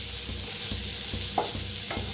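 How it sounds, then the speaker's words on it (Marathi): Onions fry in a pan with mustard oil, a constant bright sizzle up close, broken by regular soft stirring strokes roughly every half second, with no voices. "तर कांदा चांगला असा भाजून घ्यायचा आहे"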